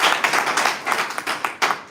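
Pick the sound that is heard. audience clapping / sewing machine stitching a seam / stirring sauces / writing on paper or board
audience clapping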